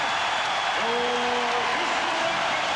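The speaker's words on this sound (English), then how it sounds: "So the Rockets hear the applause from the crowd" A basketball arena crowd at the 1994 NBA Finals Game 1, Rockets versus Knicks, applauds as the first half ends, a steady wide wash of clapping and crowd noise with a commentator talking over it.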